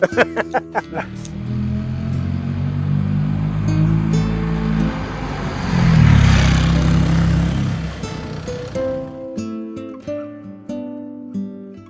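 A classic Fiat 500 L engine drones loudly and steadily while driving, swelling to a louder peak midway before dropping off, with brief clicks and tones near the start and end.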